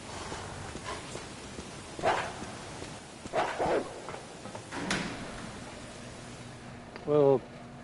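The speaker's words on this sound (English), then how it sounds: "I think the crows get replaced with dogs at this point." Dogs bark in scattered bursts during Resident Evil gameplay as Chris explores, several muffled yaps and a louder final bark over a low ambient game hum.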